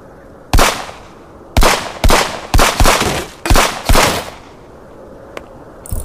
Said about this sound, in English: a lot of this part on the video is shooting